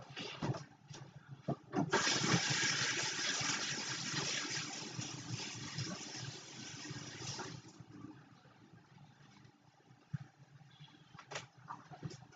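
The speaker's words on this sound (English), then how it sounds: "Let me wash my hands off." Running water from a kitchen tap while hands are washed during cake decorating, a steady rush for several seconds that then fades into quieter splashes and small knocks.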